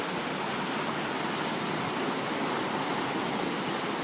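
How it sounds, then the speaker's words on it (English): The Sawmill River in flood after Hurricane Irene, roughly 30 feet below an overpass: a broad, steady roaring rush of water, constant and heard from above at a distance. "That's the Sawmill River."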